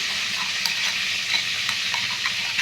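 Poppy seed, chilli and garlic pastes are mixed together for an eggplant dish, with soft scraping and faint clicks of a spoon over a steady hiss and no talking.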